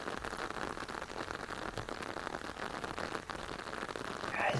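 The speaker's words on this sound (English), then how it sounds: "Appreciating the subtleties of the rain and the pacing of the" Rain falls steadily, a dense close patter of drops on a surface with an even hiss, with no voices and a slight swell at the end.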